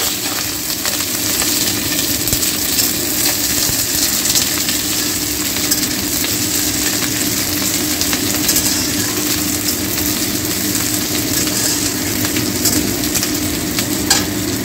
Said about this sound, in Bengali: তেল গরম হয়ে গেছে সরষের তেল দিয়ে দিয়েছি এর মধ্যে এবার এর মধ্যে দিয়ে দিচ্ছি 4টে পেঁয়াজ কুচি করে দিয়ে দিচ্ছি